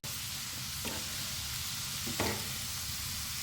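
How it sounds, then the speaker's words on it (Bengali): Sweet corn fries in hot oil with a steady crackling sizzle, interrupted twice by brief scraping stirs of a spatula, the second a little louder; no speech. "চলো একটু ভাজা হোক, তারপর আবার তোমাদের কাছে আসছি।"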